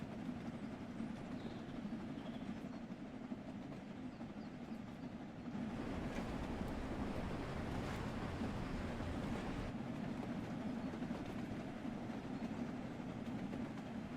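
Steam locomotive driven on a heritage railway at Peak Forest, a steady rumble of wheels and rail clatter with the cab noise swelling louder after about five seconds and holding continuous, no talk.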